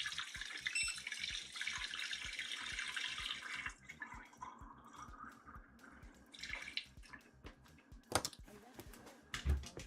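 Cold water runs from a tap in a steady hissing stream for a few seconds, then stops, leaving quieter clicks and faint handling noises.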